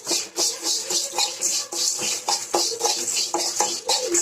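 Grated coconut stirred and roasted in a pan for Tamil horse gram (kollu) chutney, a steady run of scraping, rubbing spoon strokes against metal with light clinks, close and fairly loud with no talk.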